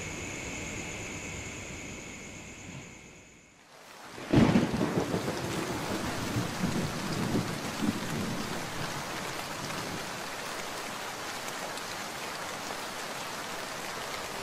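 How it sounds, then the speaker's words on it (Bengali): A sharp thunderclap breaks in after a brief hush, followed by steady, heavy rain pouring on without pause, in a Bengali fairy-tale cartoon set at night. "হায় হায়, আবার বৃষ্টি এসেছে"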